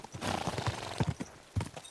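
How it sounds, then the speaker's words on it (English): Horse hooves clip-clop in Kingdom Come: Deliverance II, several uneven thuds of a horse setting off, close and moderately loud with no talk. "Get on the horse."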